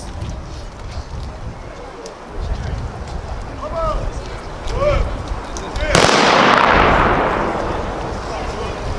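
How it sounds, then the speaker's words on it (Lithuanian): A sharp ceremonial gun salute blast booms out partway through, its roar ringing on and slowly fading, over a noisy outdoor crowd with voices and background music at a March 11 commemoration in Elektrėnai, Lithuania. "Šūvis žuvusiems už Lietuvos laisvę."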